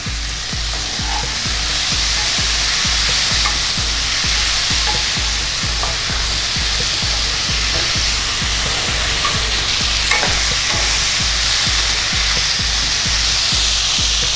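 Pumpkin pieces stir-frying in a pan for a turmeric-free Bengali morich jhol, with a steady loud sizzle and a regular rhythm of spatula scrapes and taps running throughout, no voices.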